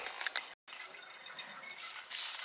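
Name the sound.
toilet tank water still running after flush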